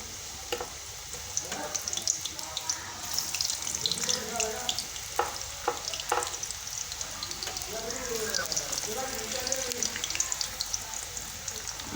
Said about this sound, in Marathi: आता आपलं तेल गरम झालं का आपण चेक करून पाहूत आणि हे तळून घेऊ हे पा तेल खूप छान गरम झालेलं आहे आपण हे चिप्स टाकून घेऊ